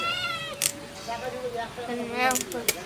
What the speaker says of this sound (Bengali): ম্যাও ম্যাও, ফুচকি মাছ খাবে, এখানে থাক।